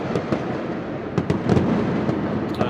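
Gunfire rings out in a Chinese war film: loud, dense bursts of rapid shots crackle almost without pause, with sharper individual reports standing out now and then.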